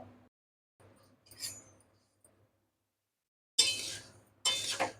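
Two sharp bursts of rattling clatter as coriander seeds hit and scatter across a hot metal wok, with faint clinks before them.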